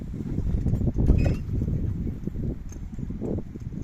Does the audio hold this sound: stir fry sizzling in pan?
no